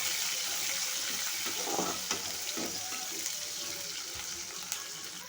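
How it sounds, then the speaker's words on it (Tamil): Onions sautéing in a pan, a steady close sizzle that runs throughout with occasional stirring scrapes and small pops, no voices. "வெங்காயம் நல்லா வதங்கட்டும்."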